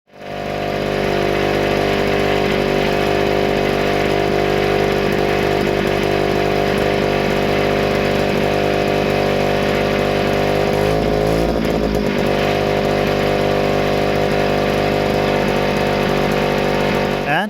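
A German military generator engine, its governor just repaired, runs steadily on its own at a constant idle, loud and close, with a brief waver partway through and no talking.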